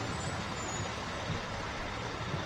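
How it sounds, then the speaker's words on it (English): A big truck rolls by in a Veterans Day parade in Birmingham, Alabama, giving a continuous low engine rumble with broad road noise, fairly close and steady, and no one speaking. "that truck is as big as it sounds."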